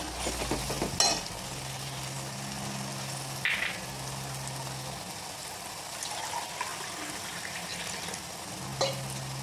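Spring onion greens sizzle steadily in a hot pan while a spoon stirs them for Vidarbha-style urad dal, with a constant frying hiss and a few brief metallic scrapes, no voices.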